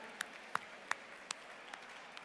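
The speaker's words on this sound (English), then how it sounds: "Let's hear a round of applause." A few scattered, faint claps from the audience at a scholarship fundraiser dinner auction, sparse and quickly fading rather than a full ovation.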